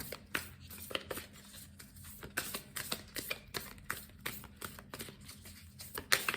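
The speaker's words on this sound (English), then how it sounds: "Just kind of waiting for the shuffle to become more smooth." A deck of tarot cards being shuffled, a quick run of light crisp clicks and flutters close by, fairly quiet and steady, with no talking.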